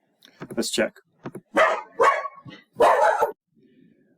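A dog gives a few sharp, close barks mixed in with a voice speaking, with short bursts spread across a few seconds.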